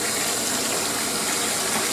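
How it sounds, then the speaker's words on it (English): A bath tap runs steadily into a filling tub, a loud, even rushing gush of water with no talk. "I'm not done running my water"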